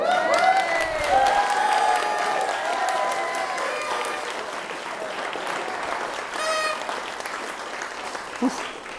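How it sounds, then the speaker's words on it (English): Wedding reception guests applaud during a speech, sustained loud clapping with some cheering and voices over it, carrying through the whole stretch. "I think that deserves a clap."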